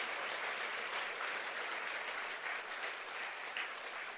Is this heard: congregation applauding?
yes